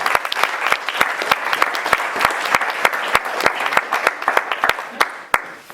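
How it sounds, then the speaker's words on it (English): A round of applause at a wedding speech, a moderate crowd clapping with distinct sharp individual claps standing out over the steady background patter. "So let's have a round of applause for them."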